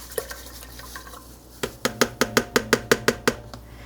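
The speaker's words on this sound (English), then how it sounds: "And I'm going to stir that until the mixture becomes clear." Stirring cheese salt into a mixture while making homemade camembert-style cheese: a spoon scrapes and taps rhythmically against the bowl, about nine sharp, evenly spaced strokes in the second half after quieter, scattered clinks, with no voices.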